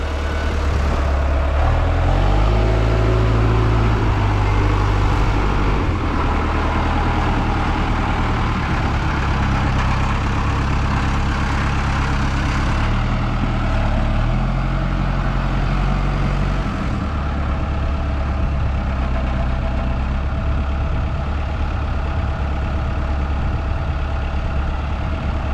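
A Skytrac 8042 telehandler's engine runs steadily at idle, a loud, continuous low rumble with slight shifts in pitch throughout and no talk.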